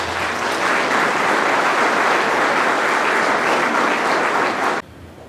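Loud, sustained applause from a gala audience at a Black Heritage Gala, a dense wash of clapping that holds steady for nearly five seconds before cutting off abruptly.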